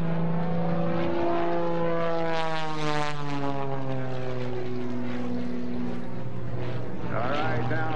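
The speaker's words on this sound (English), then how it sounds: "This airplane's going to hang on the propeller." A propeller aerobatic airplane at a 2004 airshow in Twin Falls, Idaho drones overhead performing a torque roll, its engine pitch sliding and swelling as it maneuvers, loud and continuous.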